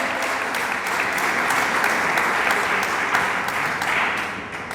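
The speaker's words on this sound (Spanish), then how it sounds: "Dele palmas al Dios del cielo." A church congregation claps in praise to God, a dense, sustained wash of many hands filling the room evenly for several seconds before easing slightly at the end.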